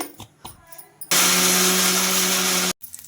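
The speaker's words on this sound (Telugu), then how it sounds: "గ్రైండ్ చేసుకున్నామండి" A mixer grinder blends peanut chutney with salt and a little water, roaring loudly and steadily for about a second and a half before cutting off abruptly, with quieter kitchen clatter before and after.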